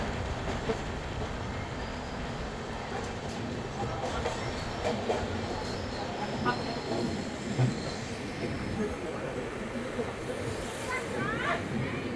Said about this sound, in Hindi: WAP7 लोकोमोटिव के साथ 15 मिनट के आसपास लेट बिलासपुर न्यू दिल्ली राजधानी